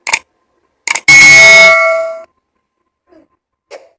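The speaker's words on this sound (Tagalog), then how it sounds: "And click the notification bell" A notification bell sound effect rings out: two quick short taps, then one loud bright clang that sustains and fades over about a second, followed by a couple of faint light ticks.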